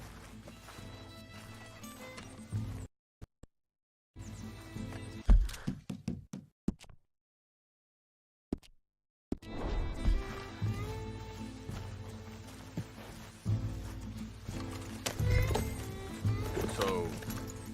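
Galloping horse hooves in Red Dead Redemption 2 near Valentine, a steady clip-clop running under game music and ambience, broken by a couple of short silent gaps.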